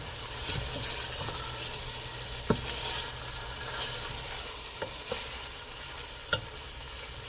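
Linguica sausage sautéing in a pan: a soft, steady sizzle close by, broken by a few sharp taps and scrapes of stirring.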